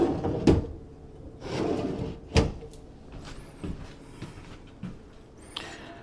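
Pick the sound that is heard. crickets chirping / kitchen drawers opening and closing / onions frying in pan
kitchen drawers opening and closing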